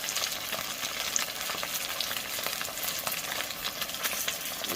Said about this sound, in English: we're gonna fry it up with that mustard on there